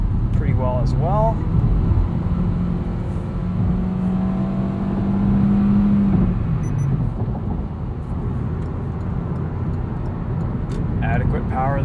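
A 2020 Hyundai Accent Limited's 1.6 liter engine accelerates from inside the cabin, a steady low drone rising in pitch over several seconds then settling, with road noise underneath and someone talking briefly at the start and end.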